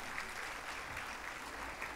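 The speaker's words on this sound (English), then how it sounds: "A round of applause" Parents applaud at a school Annual Day celebration, a soft, steady wash of clapping held at an even level for the full two seconds, fairly distant and quiet.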